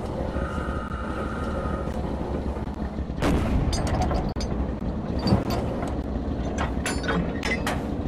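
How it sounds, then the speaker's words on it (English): A tank cannon firing high-explosive rounds in Red Orchestra 2: Heroes of Stalingrad booms loudly several times over a constant rumbling engine drone, the first shot landing about three seconds in. "Open fire with HE on those houses."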